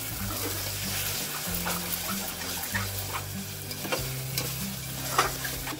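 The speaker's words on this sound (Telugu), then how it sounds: "ఇప్పుడు మనం తీసుకున్న మటన్ని కూడా వేసేసుకుందాము. వేసుకొని ఒకసారి మిక్స్ చేసుకుందాము." Mutton being stirred and fried in hot oil on high flame for haleem, a continuous busy sizzle with clattering scrapes of the spoon against the pan, and no voices.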